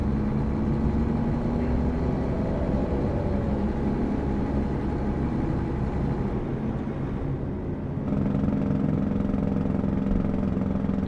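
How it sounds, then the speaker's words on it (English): Heavy truck engine in American Truck Simulator, a steady low droning rumble with a shift in tone near the end as the engine brake comes in, loud and continuous with no talking. "Got a good old engine brake sound."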